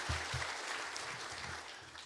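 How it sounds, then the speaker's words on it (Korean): Congregation applauding during a Sunday church worship service, a dense wash of clapping from many people filling the sanctuary for a couple of seconds, steady and moderately loud. "박수로 또 우리 격려해 주시길 할렐루야."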